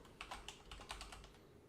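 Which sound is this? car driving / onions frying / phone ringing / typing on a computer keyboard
typing on a computer keyboard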